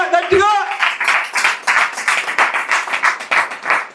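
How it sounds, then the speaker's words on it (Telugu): A church congregation claps loudly in a quick, steady rhythm of sharp bursts, after a voice speaks briefly at the start. "గట్టిగా చప్పట్లు కొట్టు."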